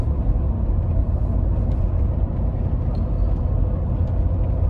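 A 2007 Cadillac Escalade with a 6.2 liter V8 cruising on the road, giving a steady, loud low rumble of engine and road noise that runs continuously with no talk over it.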